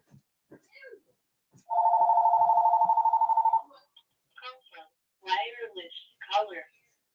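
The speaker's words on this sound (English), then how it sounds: "Answer the phone." A telephone rings in one sustained burst of about two seconds, loud and close, while someone talks casually before and after it during a bluegill and crappie fishing session.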